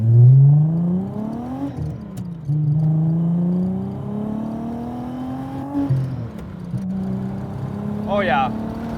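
A supercharged, VR6-swapped VW Mk2 GTI accelerates hard, its engine note climbing loudly and close. The pitch drops at two gear shifts and then rises again through second and third gear, with a brief whine near the end.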